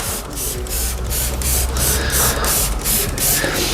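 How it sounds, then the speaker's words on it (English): A spray nozzle on a bottle of cleaning emulsion mists a car in steady repeated bursts, a hissing spray pulsing roughly every quarter second, close and fairly loud with no talk. "Open the nozzle on the front. This sprays away very,"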